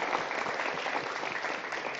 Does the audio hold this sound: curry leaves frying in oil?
no